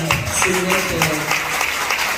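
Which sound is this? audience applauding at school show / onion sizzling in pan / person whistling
audience applauding at school show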